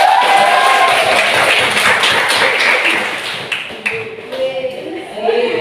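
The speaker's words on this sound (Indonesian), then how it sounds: "berikan aplaus Mas Faisal" An audience in an Indonesian classroom-style session claps for Mas Faisal. The applause is dense and fairly loud, then fades out, with a voice talking over it.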